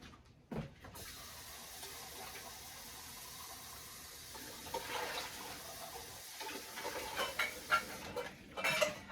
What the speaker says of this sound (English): always rinse out your cans before you put them in the recycle bin